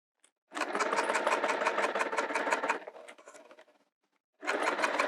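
A sewing machine stitches TPU vinyl for a zipper pouch in a rapid, even run of needle strokes, slows and stops, then starts again after a brief silence; close and clear, with no talking.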